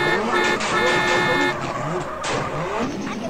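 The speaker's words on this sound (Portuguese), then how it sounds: "Estourando, né, o áudio do escapamento" A turbocharged sports car in the GTA video game revs hard with throttle and brake held, its exhaust popping and crackling in loud, rapid bursts close by.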